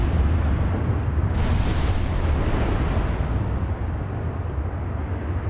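Battleship main guns fire in the naval game Ultimate Admiral Dreadnoughts, a dense, loud rumbling roar of heavy gunfire with a sharper blast early on, sustained throughout with no voices.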